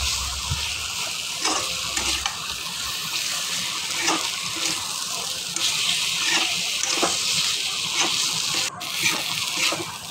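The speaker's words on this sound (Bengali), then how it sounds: "এভাবে নেড়ে চেড়ে সুন্দর করে মিশিয়ে নিয়ে" Potato and pointed gourd pieces are stirred into spices in a hot pan, giving a steady bright sizzle with soft, repeated scraping strokes of a spoon, close and even throughout, with no talking.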